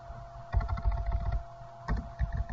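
Quick bursts of typing on a computer keyboard, two short runs of close, soft key clicks separated by a brief pause.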